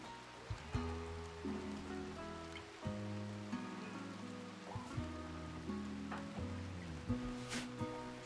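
Soft, continuous rainfall patters in the video game Rimworld, faint and steady beneath scattered quiet background tones.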